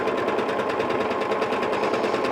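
A sewing machine stitches sashing pieces onto a quilt block, a steady rapid mechanical whir with fine rhythmic needle ticks, close and continuous without pause.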